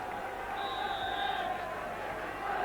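Dense murmuring roar of a large football crowd at Tannadice stadium during a 1982 Dundee United v Hibernian Scottish Premier Division match, a steady distant wash heard under a commentator's voice.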